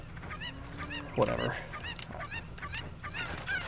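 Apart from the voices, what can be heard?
chicken clucking in video game Ocarina of Time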